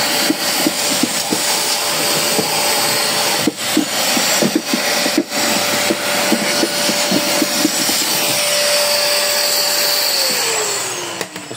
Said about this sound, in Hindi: इसमें ज़रा वैक्यूम क्लीनर मार के ना जो थोड़ा बहुत है वो डर्ट वो उठाते हैं